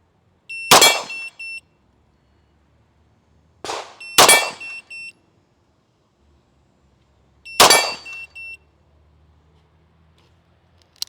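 Three sharp handgun shots fired one at a time during a shooting drill, each a loud crack a few seconds apart with a short ringing tail, and no talking between them.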